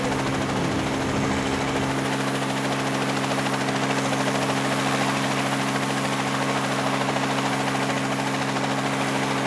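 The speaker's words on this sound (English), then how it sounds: "And the engine springing to life as we are about to set sail here at Mosport." Race car engine idling and revving at the start of the Mosport Labor Day Grand Prix, an American Le Mans Series sports car race, a steady loud droning drone with harmonic hum throughout, no talk.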